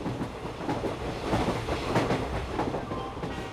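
A train rolls along rail tracks with continuous rumbling and rhythmic clickety-clack of wheels over rail joints, a steady, moderately loud ride with no voices.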